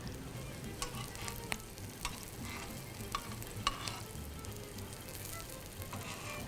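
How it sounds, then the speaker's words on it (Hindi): Kebabs made without egg fry in a pan with a steady, moderately quiet sizzle and scattered small clicks and stirring taps, no voices present. "बहुत अच्छे फ्राई हो रहे हैं बिना अंडे के भी"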